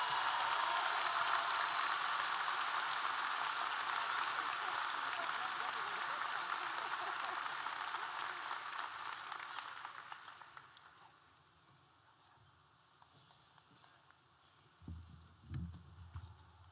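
Broad, steady audience applause fills a university commencement ceremony, loud and sustained for about ten seconds before thinning out into a quieter room with a few low bumps near the end.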